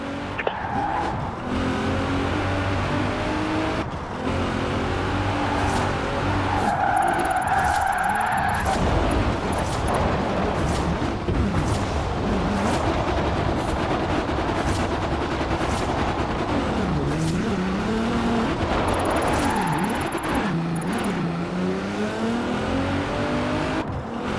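Car drifting with traction control off in Forza Horizon 4: a revving engine and long, wavering tire squeals through sliding turns, with sharp game-effect pops and chimes over a steady roar, no talking.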